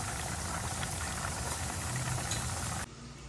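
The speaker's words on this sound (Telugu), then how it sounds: "ఇప్పుడు నెయ్యి వేస్తున్నాను నేను" Ghee sizzles steadily in a pan while tempering for daddojanam, curd rice made as a Varalakshmi prasadam. A dense, even hiss and crackle stays close and constant, then abruptly drops to a softer background hum near the end.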